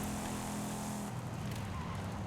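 Race car engine revving steadily as it climbs a hill in Forza Horizon 5, a continuous loud drone with a shift in pitch partway through, no voices.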